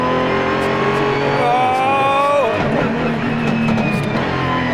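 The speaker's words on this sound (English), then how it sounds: "Oh, the exhaust on the overrun." A sports car's exhaust burbles and crackles as the engine note drops off the throttle, loud and close, with steady road and wind noise underneath.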